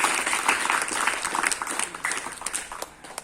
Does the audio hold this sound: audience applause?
yes